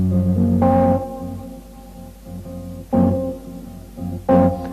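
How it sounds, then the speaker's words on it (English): Three separate guitar chord strums, each ringing and fading, with a tense major seven flat five chord colour and pauses between them. "you'll have a major 7 flat 5, which sounds like this."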